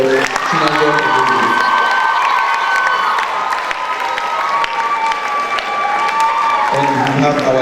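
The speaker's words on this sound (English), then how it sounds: "So please let's clap for Chinazo" A school theater audience applauds and cheers a student director at a stage production curtain call, with loud, dense clapping, shouts and whoops from a large crowd, and young voices ringing out throughout.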